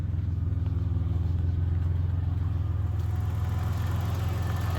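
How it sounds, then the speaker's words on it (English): A 1990 Dodge Grand Caravan LE engine idles steadily after warming up, a close, even low rumble with a regular pulse running throughout, no talking. "It's idling good."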